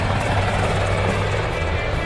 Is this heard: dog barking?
no